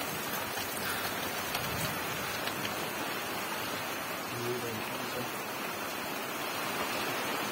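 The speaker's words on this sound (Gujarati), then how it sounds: "અનરાધાર મુસલધાર વરસાદ પડે કલ્યાણપુર ગામનું રતુરિયા" Torrential rain pours down steadily on fields in Raturiya village, Kalyanpur, with a dense, loud, unbroken roar. A faint voice is heard briefly under it.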